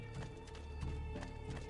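A horse galloping in Assassin's Creed 2, with rhythmic clip-clop hoofbeats repeating quickly and fairly close, faint overall and alone without talking.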